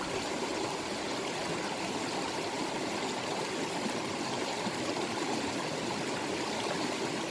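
Water of the San Gabriel River's East Fork rushes steadily over rocks, a constant, broad hissing flow with no pauses and no voices.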